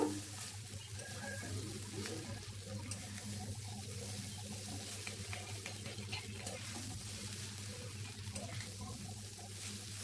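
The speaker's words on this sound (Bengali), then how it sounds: "আর এখানে গুঁড়ো মশলাগুলো দিয়ে দেবো, ভালোভাবে মিশিয়ে নেব, হালকা একটু ভেজে নেব" Ground spices fry lightly in a pan with chowmein noodles for egg chowmein, giving a steady, soft close sizzle with scraping stirs and no talking.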